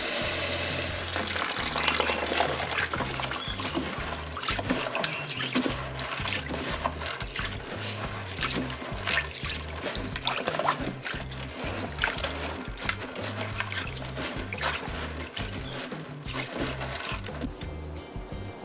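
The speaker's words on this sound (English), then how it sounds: "So now we're gonna wash our split peas here first, or matar dhal." Split peas for matar dhal are washed in water by hand, giving close, irregular sloshing, swishing and rattling of grains in a bowl throughout, at moderate loudness.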